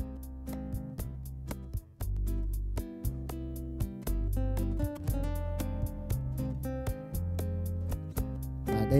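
A Godin MultiAcs guitar plays a steady bossa nova bass line of deep plucked notes under crisp percussive hits, forming a groove with no voices.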